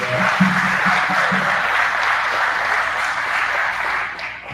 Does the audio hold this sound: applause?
yes